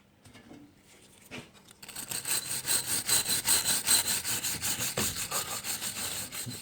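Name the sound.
wire brush scrubbing 50cc two-stroke cylinder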